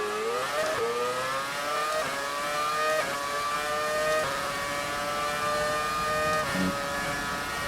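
A Brawn Formula 1 car in F1 2018 screams at high revs, its engine note climbing steadily and dropping back with each quick upshift, loud and close with no talking.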